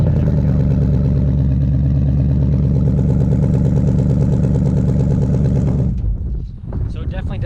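A 2018 Ford Mustang with quad exhaust idles after a remote start, a loud, steady, deep rumbling drone that holds evenly for about six seconds before cutting off abruptly into quieter shuffling.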